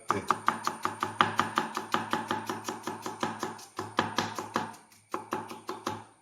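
A knife thinly slices an onion for biryani, giving a close, crisp run of evenly spaced chopping taps on a board with one brief pause, with no voice over it.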